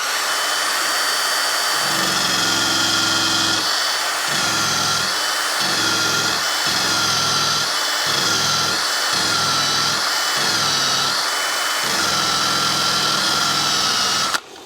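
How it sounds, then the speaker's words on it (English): A power drill whines continuously for over ten seconds while removing adhesive on a BMW M2 rear spoiler installation, its motor pulsing in a rough rhythm of short bursts, loud and close, then cutting off. "forgive the drill noise"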